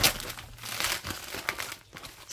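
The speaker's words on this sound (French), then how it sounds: "on a du papier bulle partout" Bubble wrap crinkles and crackles in short irregular bursts, close up and fairly quiet.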